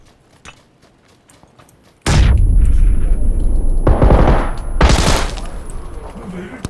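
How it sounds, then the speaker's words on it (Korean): Loud, close bursts of video-game gunfire from friends shooting break in suddenly after faint clicks, followed by heavy sustained fire and further blasts, with voices talking underneath. "드디어 친구들 쏜 거 아니야?"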